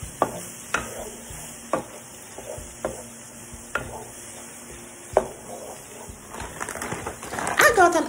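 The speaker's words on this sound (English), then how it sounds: "So give that a good stir and let it fry for about 3 minutes." Green fried rice with shrimp and pineapple is stirred as it fries in a pan, with repeated spoon scrapes and knocks against the pan over a low, steady sizzle, growing busier and louder toward the end.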